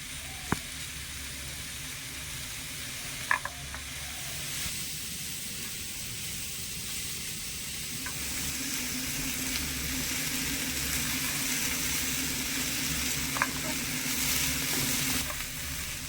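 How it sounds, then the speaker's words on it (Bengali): Raw papaya pieces fry in a pan while being stirred, making a soft, steady sizzle with a few sharp clicks of the spatula, fairly quiet and close, with no talking. "হালকা করে নেড়ে চেড়ে পেঁপেটা একটু ভেজে নেবো"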